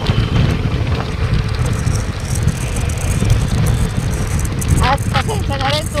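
Steady, loud rumble of heavy road traffic on EDSA in Manila, with engine drone and wind buffeting close by, constant throughout, with faint voices near the end.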